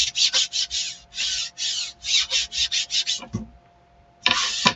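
Repeated rubbing strokes of a burnishing tool across a Chalk Couture transfer laid on a wooden surface, a quick rhythmic series of close raspy swipes with brief pauses, then a short knock and a final burst of rubbing.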